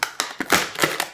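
A glued cardboard advent calendar box holding a tree-shaped cookie cutter is pried open close by, giving a quick run of crisp tearing and crackling pops, about six sharp bursts in just over a second.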